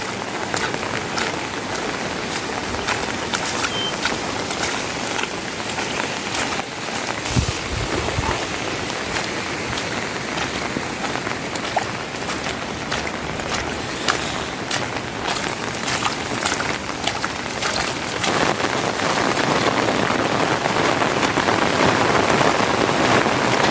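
Heavy monsoon rain pours steadily in Konkan, a dense, loud hiss of drops on surfaces that continues unbroken and swells slightly toward the end.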